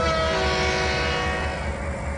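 Train running in the railway simulator game Trainz 2019, switching cars at mills on a Tidewater route: a steady, loud rumble of the locomotive with sustained horn-like tones on top, continuous throughout with no talking.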